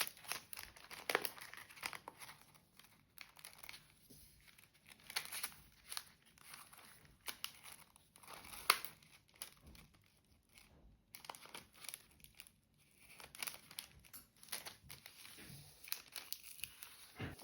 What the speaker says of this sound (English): Then fold both ends of the parchment toward the center.